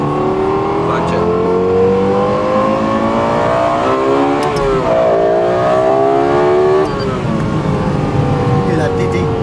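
Lexus LFA V10 supercar engine heard from the cabin as it revs hard toward redline, pitch climbing then dipping with shifts, loud and continuous with voices talking over it.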